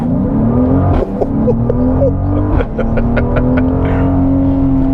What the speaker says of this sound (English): that 3-liter inline 6 sounds really good, really good